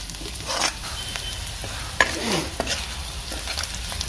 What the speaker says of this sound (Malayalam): ചില്ലി ഫ്ലേക്സിൻ്റെ രൂപത്തിൽ തന്നെ വരുന്നത് അപ്പോൾ അതും കൂടെ അങ്ങോട്ട് ഇട്ട് കൊടുക്കാം അതിൻ്റെ പച്ചച്ചുവയൊന്ന് മാറി വരട്ടെ